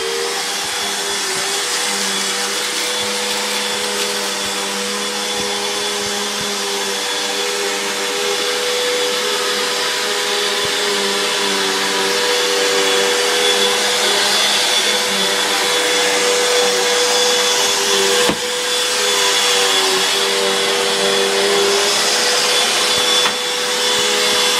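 A household vacuum cleaner running nearby, a loud continuous whine and motor drone holding steady for the whole stretch, with a slight bump in pitch near the end and no voices.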